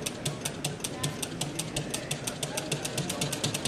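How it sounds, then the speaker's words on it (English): A concept car's engine runs very slowly during a demonstration, giving a steady, close, rapid train of mechanical knocking pulses with no one speaking. "As you can see, we can get this engine to run very"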